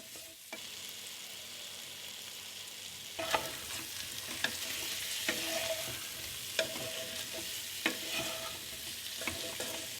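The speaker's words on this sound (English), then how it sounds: "Now add your finely sliced onions and salt as per taste. Stir and cook until the onions turns translucent." Finely sliced onions with salt frying in a pan and being stirred, a steady sizzle broken by repeated scrapes and clicks of the spoon against the pan, close and alone with no talk.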